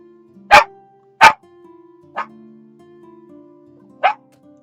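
Several sharp dog barks ring out indoors, two loud ones close together and then two softer ones spaced apart, over a low steady hum of background sound.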